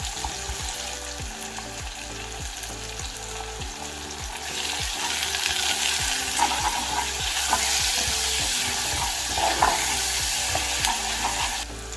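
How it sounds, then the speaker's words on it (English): Onions fry with salt in a pan for a Persian side rice, giving a steady close sizzle punctuated by repeated scraping stirs in a loose rhythm. "Fry it until the onions go soft."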